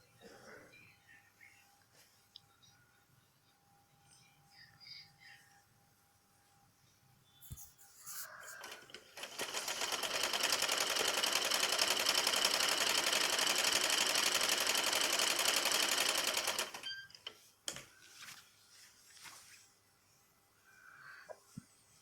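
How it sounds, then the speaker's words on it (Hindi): A sewing machine runs steadily for about seven seconds, stitching a folded salwar waistband, with a dense, even mechanical whir. Quiet handling and rustling come before and after the run. "मैं इसे फोल्ड करके सिलाई लगा लूँगी"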